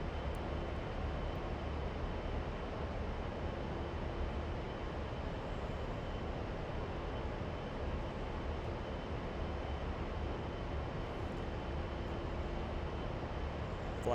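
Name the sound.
aircraft flying toward runway in a video game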